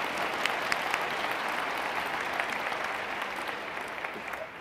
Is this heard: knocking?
no